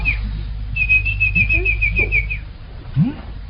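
In a Yue opera stage scene, a voice imitates a bird call as a quick run of bright, repeated chirping notes, heard over a low background hum with faint stage sounds.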